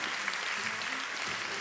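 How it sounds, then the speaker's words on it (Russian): Steady applause from a jazz concert audience in Penza, a dense even patter of clapping at moderate distance with no voices over it. "но и ваши бурные продолжительные аплодисменты"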